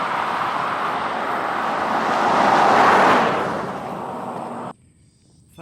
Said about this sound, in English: There's a moderate to heavy amount of traffic on this road